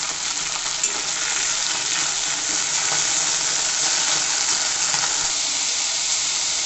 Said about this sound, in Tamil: இன்னும் போட்டு நல்லா வதக்கி விடுங்க.